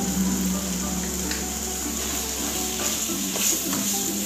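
Potato gravy with garam masala sautés in a pan, a soft continuous sizzle with occasional scraping stirs and small clinks, close by and without talking.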